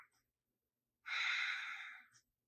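A single Ujjayi yoga exhale through a closed mouth, a close, steady breathy hiss lasting about a second that fades at the end, alone in a quiet room.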